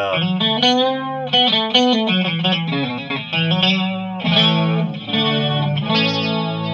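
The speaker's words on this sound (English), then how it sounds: "that's the bridge pickup as a single coil" Gibson Les Paul Modern electric guitar on the bridge pickup in single-coil mode, with a bright, slightly driven tone and chorus-like shimmer, playing a steady run of chords and notes, loud and close.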